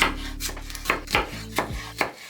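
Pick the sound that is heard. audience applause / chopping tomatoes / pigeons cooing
chopping tomatoes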